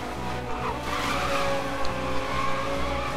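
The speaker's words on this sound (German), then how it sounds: "Oh, wunderschöner Drift hier." Car sliding through a drift in Need for Speed Most Wanted, tires squealing and skidding over a loud, steady engine drone for a few seconds, with no talk.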